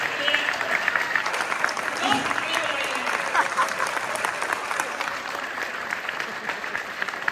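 Audience applause at a devotional ISKCON gathering about Bhagavad Gita book distribution: dense, sustained clapping from a large crowd, steady and fairly loud for the full seven seconds.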